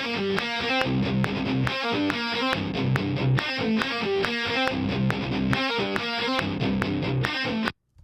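A distorted electric guitar riff looped in Logic Pro repeats in a tight loop, loud and driving, with sharp rhythmic chops before cutting off abruptly near the end.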